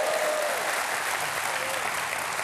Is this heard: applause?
yes